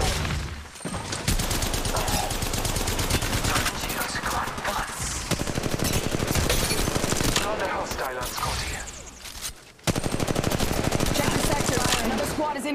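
Rapid automatic gunfire from a firefight in the online battle royale game Apex Legends, loud and dense bursts with barely a pause across the whole stretch, one brief gap near the end before firing resumes.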